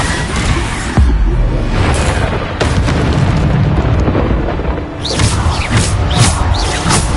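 Bombarda explosion spells go off in a Hogwarts video game duel, with several loud booming blasts and crackling magical bursts spread through a noisy, continuous combat soundscape.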